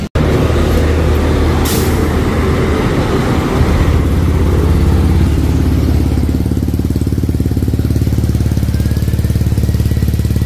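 A Honda Click 125/150 scooter engine fitted with a UMA racing air filter revs loudly and close up, a sustained rough buzzing drone with a brief sharp burst early on, no talk.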